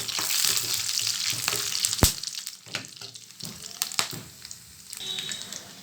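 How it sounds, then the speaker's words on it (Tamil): Cashews, raisins, cinnamon, cardamom and coconut roast in a pan for payasam, a moderate sizzle broken by scrapes and knocks of stirring, with one sharp clack partway through. "இதையும் நல்லா கலந்து கொடுத்து நல்லா வறுத்து எடுத்துக்கலாம்"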